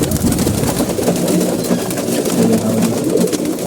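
Pigeons coo loudly and close by while being fed wheat and corn, with overlapping throaty calls rolling on without pause.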